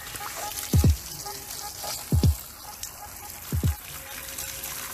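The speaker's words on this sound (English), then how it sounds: "rinse the cartridge one more time with a high pressure nozzle and one more time with no nozzle on the hose" A garden hose sprays water over a pool cartridge filter during rinsing: a steady hiss runs throughout, broken by three short, heavier gushing bursts spaced about a second and a half apart.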